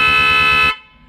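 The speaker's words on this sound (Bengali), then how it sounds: "হালকা চেপে ধরো হর্নটা" A repaired car horn sounds a single steady, loud blast held for under a second, then cuts off into quiet, with no talk.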